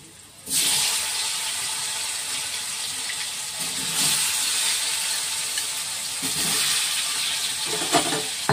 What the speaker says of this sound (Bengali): এবার ওলটাকে ভালো করে দিয়ে ভাজবো।